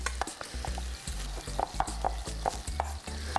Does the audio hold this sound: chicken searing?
yes